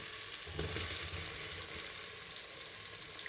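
Chopped tomato and potato with ginger-garlic and spices fry in a pan for soya chunk curry, giving a continuous bright sizzle with a brief stirring bump near the start, close and steady.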